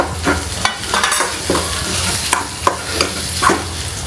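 Crushed potatoes and cumin frying in oil for a potato khichdi, a close crackling sizzle punctuated by sharp spatula knocks and stirring scrapes.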